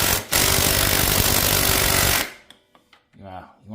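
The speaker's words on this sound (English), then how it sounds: "Finish them off with the rattle gun." A rattle gun (impact wrench) hammering at tight bolts on a BMW F800-GS motorcycle: one loud, continuous, rapid rattling burst of about two seconds, close up, followed by a brief voice.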